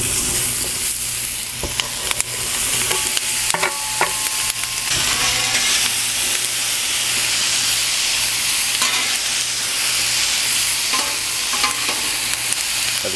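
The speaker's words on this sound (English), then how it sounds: "we're gonna go ahead and saute these out on the griddle right now" Vegetables sauté on a preheated Blackstone griddle outdoors on a porch, a steady loud sizzle running throughout with occasional scrapes and taps of a spatula against the flat top.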